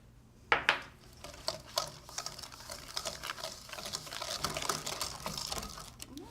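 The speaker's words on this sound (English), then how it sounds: "So now I'm going to whisk in the egg yolk and whole egg mixture." A whisk beats an egg yolk and whole egg mixture into cream for pastry cream, making quick, light clicks and taps against the bowl. The whisking starts with a sharp knock and goes on as a fast, even ticking.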